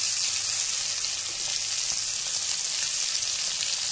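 Stuffed parwal (pointed gourd) fries in a pan over a medium flame, giving off a continuous, even sizzling hiss with no speech.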